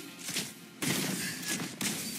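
A couple of loud, close gunshot bursts crack out in quick succession, with a noisy rattle of gunfire between them.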